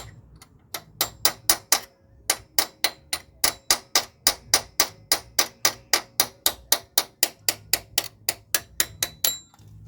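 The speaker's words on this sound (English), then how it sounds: "We need a very small hammer and punch" A small hammer taps a metal punch during timing belt work, in a fast, steady run of sharp, bright strikes, close and continuous with only a brief pause.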